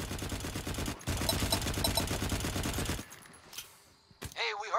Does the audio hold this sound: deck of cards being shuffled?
no